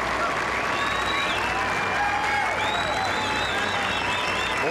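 A large gallery applauds steadily at the final round of the 1997 U.S. Women's Open golf championship at Pumpkin Ridge, with broadcast commentators talking over the sustained clapping.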